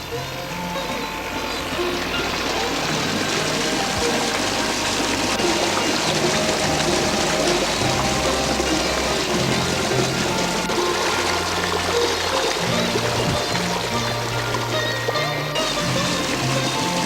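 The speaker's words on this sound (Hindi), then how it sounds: "मशीनी यंत्र से पानी निकालकर लिफ्ट इरिगेशन किया जाता है।" Water pumped by machine for lift irrigation near Udaipur, Rajasthan gushes and pours steadily, a loud continuous rush with low tonal sounds running beneath it.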